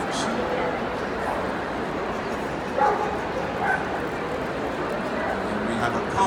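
Dogs bark and yip amid a noisy crowd at a Crufts dog display featuring German Shepherds and collies, the barks fairly distant and intermittent under a steady arena murmur and an announcer's voice.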